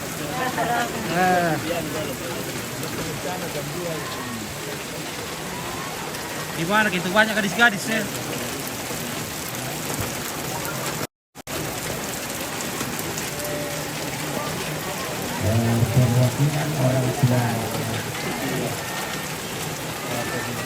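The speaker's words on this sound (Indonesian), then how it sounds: "enaknya hujan di Sangatta, Kaltim" Rain falling steadily in Sangatta, East Kalimantan, a continuous wash of patter that runs under people talking nearby for most of the stretch, broken by one short gap.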